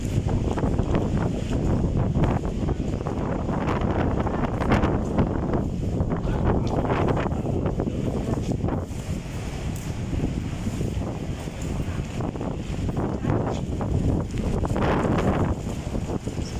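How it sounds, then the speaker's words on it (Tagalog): Strong storm wind roars continuously against the microphone, heavy buffeting and rumbling gusts that surge and ebb, no talking. "Lakas ang hangin. Hindi pala ulan."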